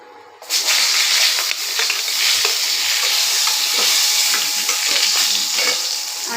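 Pointed gourd frying in a little oil in a wok, a sizzle that bursts in suddenly and stays loud and steady, with scattered crackles and stirring scrapes.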